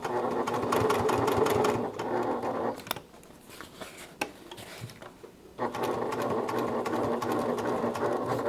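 A sewing machine runs steadily while stitching a pocket, whirring loudly and evenly, then pauses for a few seconds of quieter handling with a couple of clicks before the motor starts up again for the backstitch.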